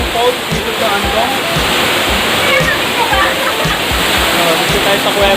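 Pang Falls waterfall in Antong, a loud, close, continuous roar of pouring and splashing water with uneven sloshing surges throughout.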